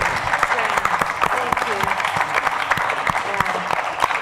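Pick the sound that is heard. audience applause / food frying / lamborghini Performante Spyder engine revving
audience applause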